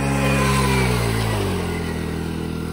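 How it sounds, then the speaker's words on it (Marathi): A car engine revs loudly and steadily at close range, the pitch slowly dropping as it is driven out through a crowded village fair, with no talk over it. "मित्रांनो, थांबा आता गाडी काढतो बाहेर आधी"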